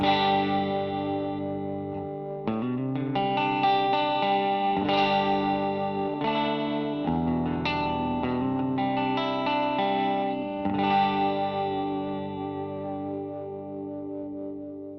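A Gretsch 6120 Chet Atkins electric guitar through a Line 6 HX Stomp plays chords and picked notes with a clean, shimmering, chorus-like tone, ringing steadily for the whole stretch with no talking.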